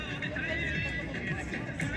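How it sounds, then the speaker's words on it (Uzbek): Horses at a kokpari (buzkashi) horseback game neigh amid a noisy crowd, with whinnies rising above constant babble and hoof sounds in a dense outdoor din. "mana katta otlari bor"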